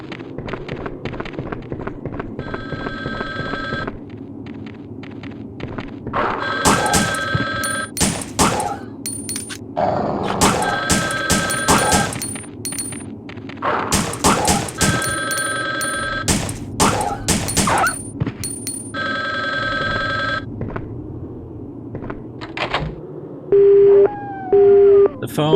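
A telephone rings repeatedly in Resident Evil: Survivor, bright electronic trills in bursts, with gunfire-like game sounds and music around them.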